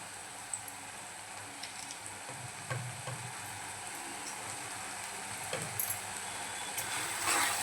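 Spiced eggplant bharit mixture with turmeric, Malvani masala and salt sizzles in a pan as it is stirred, a steady frying hiss broken by a few soft scrapes and knocks, close by and without talk.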